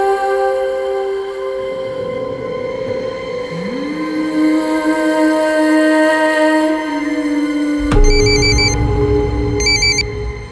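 A telephone rings in a Crime Patrol drama scene, a repeating electronic ringtone bursting in near the end over a tonal music bed, loud and close with no talk.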